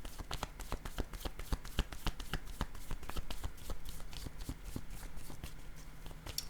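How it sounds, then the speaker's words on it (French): A deck of cards is shuffled repeatedly for a tarot-style reading, producing crisp rapid riffles and slaps in a steady close rhythm, with no talking. "Allons-y avec deux autres cartes de mon jeu."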